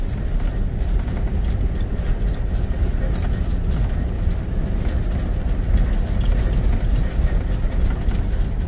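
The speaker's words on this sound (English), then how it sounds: "flat-spotted bias-ply tires getting a thumping cadence going" A 1960 GMC Superior Coach school bus rolls along on old flat-spotted bias-ply tires, a loud continuous low engine and road rumble with a steady thumping drone throughout.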